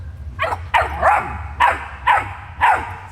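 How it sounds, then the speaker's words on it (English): Hank, a young dog being raised for hunting, barks close and loud in about five quick yips and barks with short pauses between them. A low background rumble runs beneath the barking. "Come on, bark at me."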